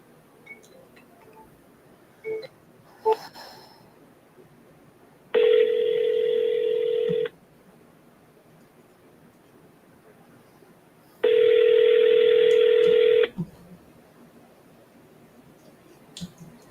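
Telephone call tones on a line: a few faint dialing blips, then two long, loud ringback tones separated by a pause of several seconds, heard close and clear with no speech.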